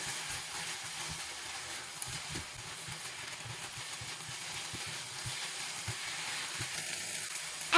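Scrambled egg tossed with vegetables for egg fried rice sizzles in a hot pan with a low, steady crackle, and the spatula scrapes faintly at irregular moments.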